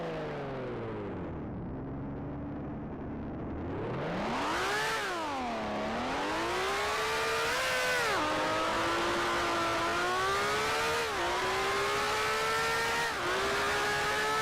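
A 1965 Formula One car engine in the Grand Prix Legends racing sim on the Suzuka track, revving loud and close for a practice start: it dips, surges sharply, then climbs steadily with brief drops at each shift.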